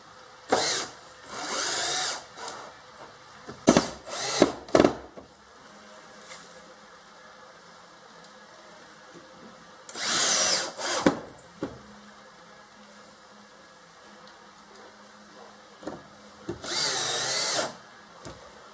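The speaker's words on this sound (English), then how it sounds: "Screw self-tucking screws that provided into the pilot holes that you drilled into the yellow starter section." A power driver driving self-tapping screws into pilot holes in a wetroom drainage starter section, in several short whirring bursts separated by quiet pauses, close and fairly loud.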